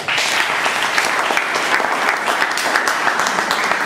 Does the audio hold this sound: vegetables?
no